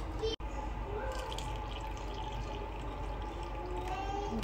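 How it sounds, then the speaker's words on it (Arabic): A room-temperature starch and water mixture is poured onto cooking rice for Egyptian rice pudding, giving a soft, close, steady liquid pour with light drips. "وهبدا ان انا انزل بيها على الرز"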